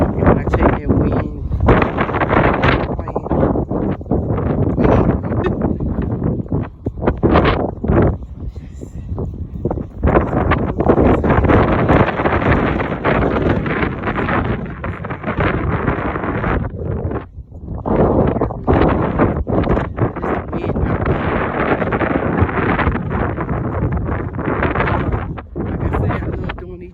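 Strong outdoor wind buffeting a microphone on a cloudy day during a walk, a continuous loud roaring rumble with gusty surges that nearly drown out a person talking throughout.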